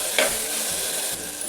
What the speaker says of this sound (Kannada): ಸ್ವಲ್ಪ ಮಿಕ್ಸ್ ಮಾಡ್ಕೊತೀನಿ ಎಲ್ಲ